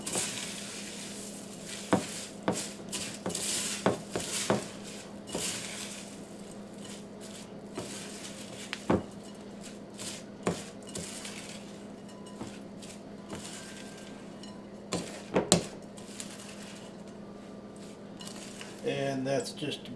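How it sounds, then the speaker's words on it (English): A spoon stirs Rice Krispies cereal into a sticky peanut butter, sugar and corn syrup mixture in a bowl, giving scattered scraping clinks and knocks of utensil against dish, fairly quiet and close, with no talking. "Go to dump the Krispies in and coat them with the mixture. Peanut butter, sugar, and corn syrup mixture."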